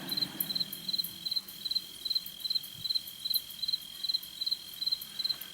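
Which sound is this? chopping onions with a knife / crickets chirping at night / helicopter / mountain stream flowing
crickets chirping at night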